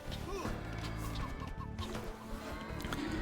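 Chickens cluck in a busy Age of Empires game, mixed with clattering unit sounds and impacts under a dense, steady game soundscape.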